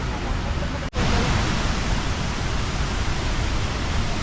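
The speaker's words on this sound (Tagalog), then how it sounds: "Tangadan Falls, San Gabriel, La Union." Tangadan Falls in San Gabriel, La Union, a loud, close, continuous roar of falling water with one brief dropout near the start.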